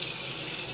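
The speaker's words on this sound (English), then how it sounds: "Rinse off the bowl." Tap water running steadily into a sink while a green shaving soap bowl is rinsed, a continuous close, even hiss of flowing water.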